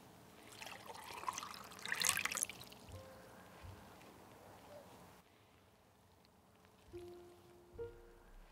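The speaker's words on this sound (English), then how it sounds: "Being able to empty a bottle of water over a camera is something that I'll never get over." Water from a bottle is poured over an OM System OM-1 Mark II camera, a brief splashing trickle that peaks for a moment and then fades into quiet dripping.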